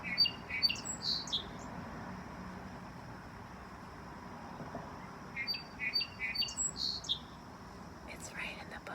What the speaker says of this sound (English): wow, the bird must be right there